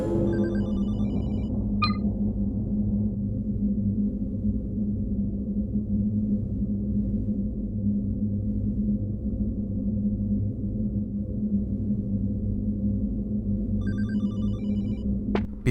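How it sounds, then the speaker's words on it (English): A telephone rings in a quiet apartment in the horror game Hollowbody, with a low ambient hum underneath. The phone is heard from an adjacent room, with one short ring burst near the start and another near the end. "Right away we can hear the telephone coming from the room on the left"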